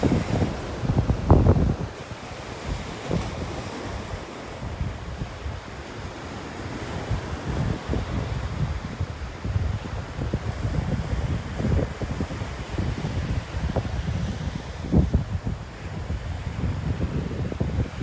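Surf rolls in on a beach in North Naples, Florida, with waves breaking and washing up in a steady churning roar, some crashes standing out, and wind buffeting the microphone throughout.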